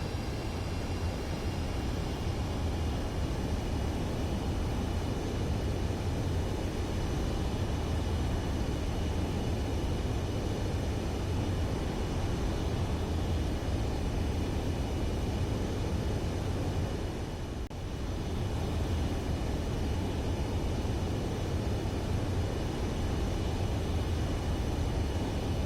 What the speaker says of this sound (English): Breaking into the circuit from your left, hear the roar of the Pratt & Whitney F-100